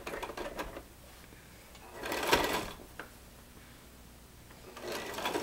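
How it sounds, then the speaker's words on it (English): Sewing machine stitching fabric for a fishtail skirt, a faint rapid mechanical whirr in short runs with brief pauses, heard up close in a quiet room. "So I'm just sewing it on to the end"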